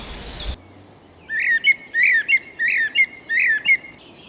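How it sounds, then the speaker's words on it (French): Blackbirds perch on a branch nearby and sing in the countryside of Brittany. A brief rustle gives way to about six clear, bright, repeated song phrases, close and loud, separated by short pauses. "ces merles qui viennent se percher juste à côté de moi là sur la branche"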